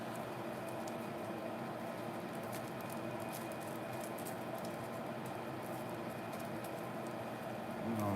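Rain falls steadily outside in Ohio, a dense, even patter that holds at the same level throughout and sounds close, with no talking.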